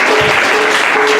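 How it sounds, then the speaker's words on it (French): Church congregation applauding during a sermon, a dense, loud burst of clapping from many hands that fills the space evenly throughout. "on acclame le Seigneur."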